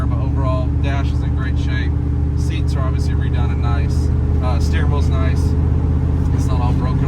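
A 1988 Chevrolet C1500 pickup with an LS3 V8 sends out a loud, steady exhaust drone that holds close and constant throughout, with someone talking over it.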